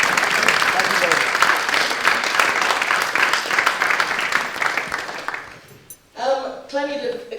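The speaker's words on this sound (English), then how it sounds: "Can we just have one more round of applause for Clem?" Audience applause at a public speaking event, a dense, loud wash of clapping lasting about five seconds before it fades out and a voice begins talking.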